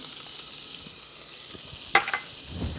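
Chorizo sizzles in a hot pan on medium-high heat with a soft, steady frying hiss and a few brief clinks and scrapes of stirring.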